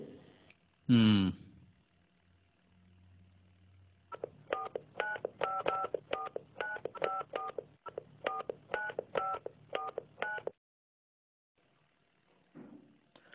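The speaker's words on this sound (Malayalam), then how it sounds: "നീ ഫോൺ ചെയ്യേ" Telephone keypad tones beep in a quick regular series of about a dozen presses, fairly close and clear, after a brief voice and a thump near the start.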